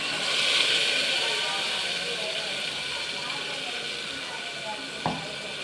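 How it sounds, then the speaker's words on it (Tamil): Tomato paste fries in a pan for curry over a low flame, giving a steady, fairly loud hissing sizzle throughout, with a single brief clink near the end. "கொஞ்சம் லோ ஃப்ளேம்லே ஃப்ரை ஆகட்டும்."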